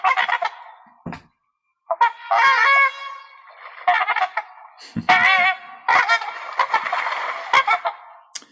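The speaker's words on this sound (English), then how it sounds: "First, the trumpeter swan, which, guess what, sounds like a trumpet." Recorded calls of a trumpeter swan: a series of brassy, nasal honks in separate bursts with short silent gaps, clear and close.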